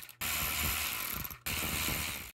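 A hand ratchet backs out 8mm bolts on the oil pump cover of a Scott's (John Deere) L2548 riding lawnmower, two quick runs of dense rapid clicking separated by a short pause, close and clear.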